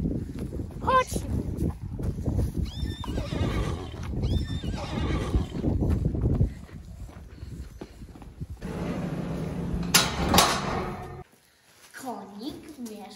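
Horse at its stable neighing loudly in short bursts, with hooves clip-clopping and wind noise; people talk now and then.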